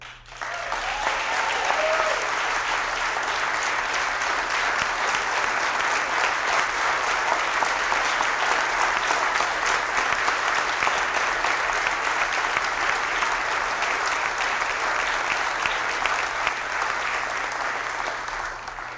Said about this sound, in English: She always gets the loudest applause.